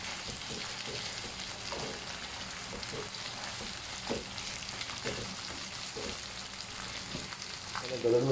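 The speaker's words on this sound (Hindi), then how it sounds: "इसको अच्छी तरह भूनेंगे कीमे को" Minced mutton keema fries on a tawa with a steady close sizzle and occasional soft stirring scrapes, continuous and alone without talk.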